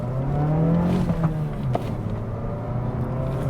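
A 2025 Mazda 3 Premium pulls away in first gear on a small private road, its engine giving a steady droning hum that climbs slightly in pitch, heard from inside the cabin with no talking.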